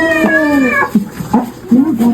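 A cat yowls and caterwauls close up in a long drawn wail, followed by shorter rising meows in an outdoor prank setting.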